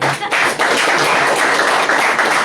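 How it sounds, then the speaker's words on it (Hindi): Congregation clapping during a Sunday worship service at a church, dense, loud, steady applause-like clapping from many hands throughout, close and continuous. "आप ताली किसके लिए बजा रहा है?"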